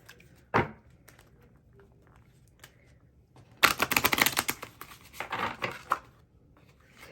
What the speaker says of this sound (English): First, we're going to shuffle the tarot, most important.